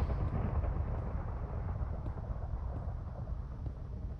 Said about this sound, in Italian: non è strano che si senta il rumore dei tuoni in miniera